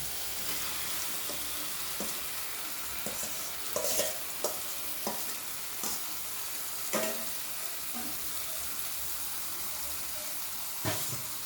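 Broccoli stir-frying in a pan, a continuous hissing sizzle broken by repeated scraping and knocking of a spatula, moderately loud and close, with no speech.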